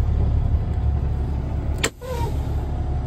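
A truck in an air brake test creeps forward a few feet with a steady low engine rumble, then a sharp brief hiss as it halts, followed by quieter idling.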